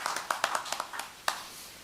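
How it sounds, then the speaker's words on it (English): A small audience at a city council meeting in Seaford claps in a short, sparse burst, with a handful of distinct hand claps rather than a full ovation. "So I think we should give a round of applause."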